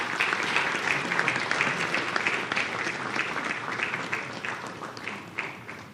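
A hall full of attendees at a national affordable-housing forum applauds their keynote speaker, a dense, sustained roar of clapping that holds steady throughout and thins slightly toward the end, with faint voices underneath.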